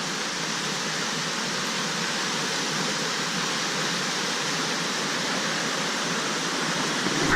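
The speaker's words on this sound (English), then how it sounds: "So this is the old river running through." An old river running through woodland on a rainy day, a steady broadband rush of flowing water, close and continuous with no break.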